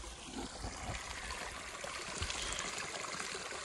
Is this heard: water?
yes